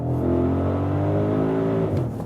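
An Audi SQ7/SQ8 V8 petrol engine in dynamic mode holds a loud, steady, rumbling rev close by for about two seconds, with a deep throaty tone and a slight drop at the end.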